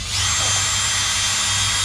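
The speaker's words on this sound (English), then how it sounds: "Now we'll put the second hole in." A power drill bores a second bolt hole into a Hallberg Rassy 54 sailboat with a loud, steady, high whine that starts abruptly and runs without a break.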